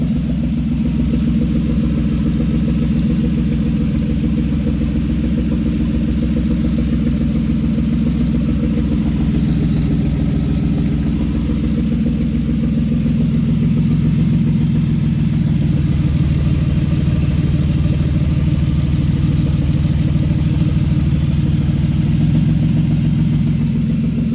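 Steady idle from a 2005 Impala 3.4L engine swapped into a 2000 Grand Am: an even, smooth, low droning rumble running continuously and close, with a slight swell partway through and no voices.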